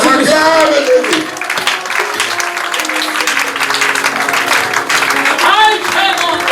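A church congregation applauds during a night vigil, with continuous loud clapping throughout, mixed with voices and singing.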